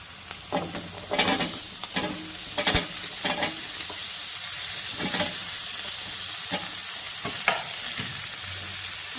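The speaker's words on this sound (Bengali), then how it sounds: "এবার আমি এখানে কেটে রাখা আলুর টুকরোগুলো দিয়ে দিব" Potato pieces frying with onion and green chili in a pan sizzle steadily while a utensil stirs and scrapes in repeated bursts, close and fairly loud with no talking.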